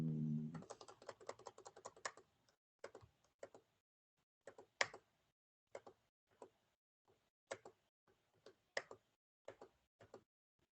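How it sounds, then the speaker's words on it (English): Hard, forceful typing on a computer keyboard, with a quick burst of clustered keystrokes followed by sparse, sharp individual key strikes spaced irregularly, close and crisp against silence. "We'll buy you a new keyboard. Yeah. You're punching too hard."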